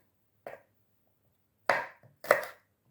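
A knife cuts garlic cloves into strips on a board, three crisp, separate chops spaced unevenly in a quiet kitchen, with no talk.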